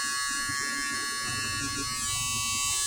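A Peggy's Stitch Eraser electric tool removes stitches from a hat with a continuous, close, shaver-like buzz that holds steady and changes pitch slightly near the end.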